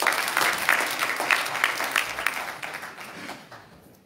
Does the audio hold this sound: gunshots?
no